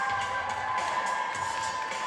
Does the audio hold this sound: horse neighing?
no